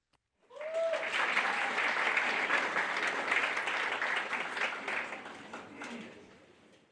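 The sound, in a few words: audience applause at a white coat ceremony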